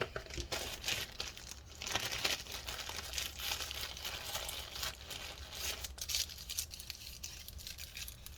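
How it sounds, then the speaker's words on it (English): Crinkling and peeling of double-sided adhesive tape being handled and pressed down during a Lenovo ThinkPad X1 Extreme laptop repair, close soft rustling and tearing over several seconds, no voices. "Get a piece of double stick adhesive here"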